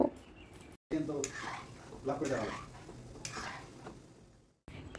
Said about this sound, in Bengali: এইভাবে লো টু মিডিয়াম আঁচে আমরা নিমকিগুলোকে ভেজে নেব।